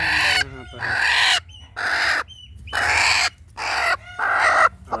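Several chickens cluck in repeated bursts close by on a farm, with brief pauses between calls and a low rumble of background noise.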